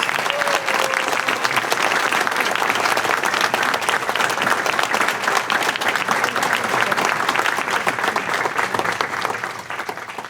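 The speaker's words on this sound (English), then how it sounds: "please stand and give a big round of applause to our 2022 Woman of the Year recipient, Estella Guzman" Sustained applause from a standing banquet audience honoring a Woman of the Year recipient at an annual awards banquet, dense steady clapping for about ten seconds, easing slightly at the end.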